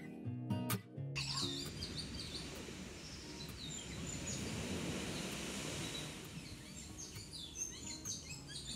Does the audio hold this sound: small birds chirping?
yes